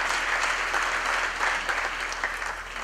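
Audience at a university campus graduation ceremony gives a big round of applause, a dense, steady roar of clapping under a low hum, easing slightly at the end.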